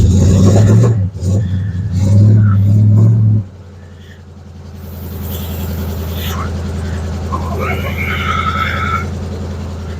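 A 1950 Ford F1 truck engine idles with a deep, steady rumble and then gathers pace as the truck moves forward, with a faint squeal toward the end. A loud voice dominates the opening seconds.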